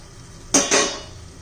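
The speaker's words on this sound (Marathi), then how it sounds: "हे झाकण काढून पाहूया आपण" A lid is lifted off a cooking pot of palak and green pea bhaji: two quick metallic clanks close together, loud and near, then a fading ring over a quiet room.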